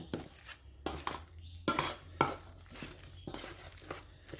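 Batter being mixed with shredded papaya in a bowl, giving a string of close, soft wet stirring and scraping sounds with light clinks, alone without talk.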